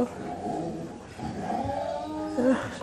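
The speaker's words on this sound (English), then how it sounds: "listen to those dogs" Several dogs bark and growl at a middle distance, yips and snarls rising and falling in uneven bursts, with a sharp whining yelp near the end.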